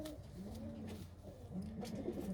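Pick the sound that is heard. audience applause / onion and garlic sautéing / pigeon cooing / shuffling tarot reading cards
pigeon cooing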